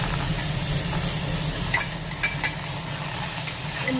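Gravy with tomatoes sautéing in a pressure cooker, a steady low sizzle and stir with a few light clinks of a spoon against the pot, no talking.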